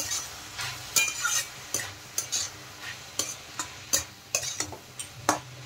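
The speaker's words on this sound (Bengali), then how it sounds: "এখন নেড়ে চেড়ে এই মশলাগুলো মোচার সাথে ভালোভাবে মিশিয়ে দেব।" A spiced banana flower mixture is stirred in a frying pan, with a quiet steady sizzle under repeated sharp scrapes and taps of the spoon against the metal at an uneven rhythm, close by.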